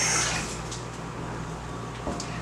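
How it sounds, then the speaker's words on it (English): Water running steadily as a cooking pan is rinsed, a continuous close splashing rush with slightly stronger flow at the start. "Let me rinse my pan."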